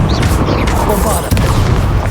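A Bombarda explosion spell booms in the Hogwarts Legacy video game, a heavy low blast filling the short span with a second thud partway through, loud and close, while a voice calls out over it.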